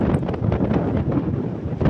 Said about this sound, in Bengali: আমাদের এদিকে বৃষ্টির আগ মুহূর্তে দেখেন কি বাতাস এবং ঘূর্ণিঝড়ের লক্ষণ।